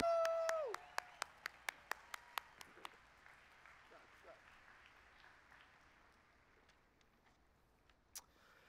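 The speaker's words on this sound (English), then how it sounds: "can we get a huge round of applause for all of our teachers and faculty" Crowd applause for teachers and faculty at a 2021 high school graduation, heard briefly and then thinning, with sharp isolated claps, a tone and distant crowd murmur.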